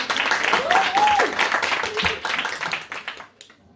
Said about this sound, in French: Un tonnerre d'applaudissements encore